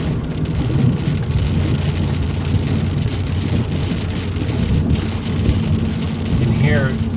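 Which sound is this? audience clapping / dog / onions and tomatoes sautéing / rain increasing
rain increasing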